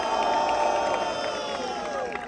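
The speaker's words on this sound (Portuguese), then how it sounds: "Barulho pro trio da Batalha do Carrão!" A live audience at a rap battle trio semifinal cheers and shouts loudly and continuously for the Batalha do Carrão trio, the roar easing slightly toward the end.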